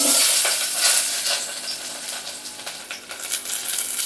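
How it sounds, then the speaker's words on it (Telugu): Chopped onions sizzle in hot oil for tomato rasam, a bright crackling fry with occasional stirring scrapes, close and steady. "తర్వాత ఆయిల్ కాగాక మనం కట్ చేసి పెట్టుకుని ఆనియన్స్ వేయాలి."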